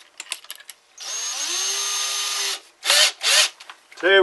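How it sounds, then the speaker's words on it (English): An electric drill bores a pilot hole in wood, a steady whirring run of about a second and a half, then two short bursts and a final brief spin, close and loud with no talk. "When you start drilling, it won't walk on you."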